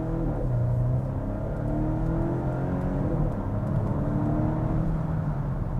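A Volvo V60 Cross Country driving quickly on the road, heard from inside as a steady engine hum and tire whir with smooth, continuous road roar and no speech.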